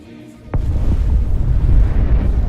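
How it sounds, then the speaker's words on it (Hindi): Firecrackers bursting in the sky, a sharp crack followed by a deep, rolling rumble that stays loud and sustained. "जहां पटाखे फट रहे हैं तू उस जगह के करीब है"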